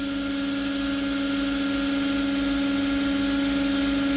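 Washing machine motor humming steadily with a faulty, sparking commutator, a constant near drone with strong tonal whine and faint crackle, no voices.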